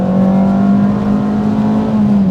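A Renault Clio 172 Cup engine revs hard under acceleration, a loud, steady, close-miked drone holding a single rising pitch through a twisty Highland road in the Cairngorms, with no voices over it.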